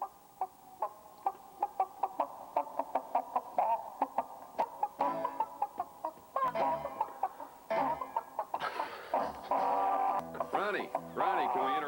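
Radio audio carries a novelty bit of chickens clucking in a rhythmic run of sharp, repeated clucks, joined by voices and busier sound toward the end.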